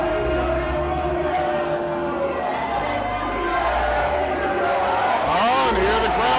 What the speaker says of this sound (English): here the crowd starts with the USA chants